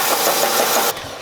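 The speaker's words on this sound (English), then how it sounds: "So I'm gonna lightly try to belt sand this smooth" A belt sander smooths a metal turbo-kit part for a drift truck, a loud, steady abrasive rush running for just under a second before cutting off sharply to quiet.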